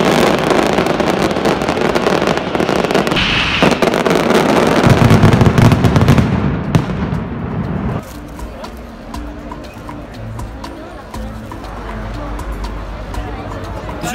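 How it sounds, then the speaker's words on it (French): Mass firecracker barrage at the Fallas festival in Valencia, a dense continuous crackle of countless rapid explosions, loud and sustained, with heavy low booms rolling through the middle, settling into a lighter ongoing rattle. "pour faire péter 2 millions de pétards à chaque fois à 13 h tous les jours"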